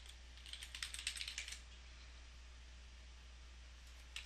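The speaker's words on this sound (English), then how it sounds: "I'm going to type in here." Typing on a computer keyboard in a lecture setting: a quick run of faint, close key clicks lasts about a second and a half, then near silence over a low hum, with a final click at the end.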